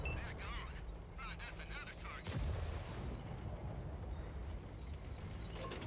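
A single heavy artillery shell blast in a Tiger II tank battle video game, a loud boom about midway with a rumbling tail that fades into steady battlefield noise.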